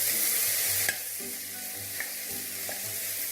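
A spoon folds a vegan miso soup mixture in a pot, making a few soft scraping strokes over a faint background sizzle, with no one talking.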